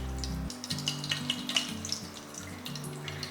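Ghee and coconut oil heat together in a pan for vegetable biryani, giving a quiet crackle and sizzle over a low steady hum. A few brief pops stand out near the start.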